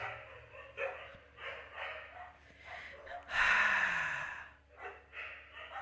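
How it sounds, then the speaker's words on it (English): Dogs in a neighbouring yard bark and snort in short bursts, fairly close, with one longer loud outburst partway through and no speech over it. "get your dogs in control"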